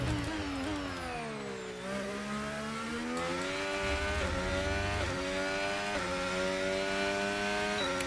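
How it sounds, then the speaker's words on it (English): An F1 25 race car engine screams in the video game, its pitch climbing steadily and then falling sharply with each upshift. The cycle repeats several times, loud and continuous throughout. "Timing that upshift is quite important."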